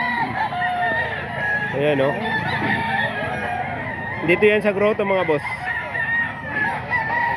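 A rooster for sale at a grotto market gives loud, close crowing calls and clucks, with people talking over and around it.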